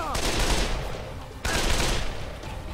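Gunfire in the zombie game Dead Island comes as dense bursts of shots, loud and close, with a sharp new volley partway through and faint voices underneath.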